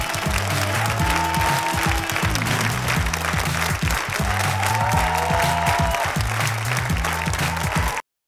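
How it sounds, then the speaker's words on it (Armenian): Loud, dense audience applause fills a televised gala show of a national singing contest, continuous and steady throughout, with music playing underneath. "Բարձր ծափարում և ճանապարհում ենք"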